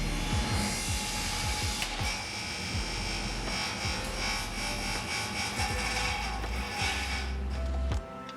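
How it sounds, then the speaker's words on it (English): A saw blade cuts brass while one of its carbide teeth chips off, giving a steady loud grinding, ratcheting whine with repeated clicks and knocks throughout, then a sudden drop at the end. "What actually happened was the carbide tooth on this saw blade chipped off."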